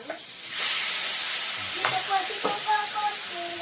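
Chicken sizzles and spatters in a hot pan with onion, cooking for a chicken caldereta in coconut milk. A steady loud hiss carries scattered sharp pops and crackles throughout, with no talking.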